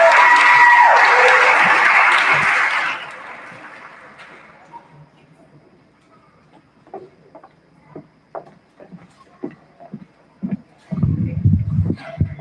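Audience applause at a middle school graduation ceremony, loud and dense for about three seconds before fading out, followed by scattered clapping and crowd noise.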